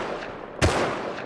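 A single sharp gunshot in the Rust survival game cracks out at close range, followed by a brief decaying tail over faint background ambience.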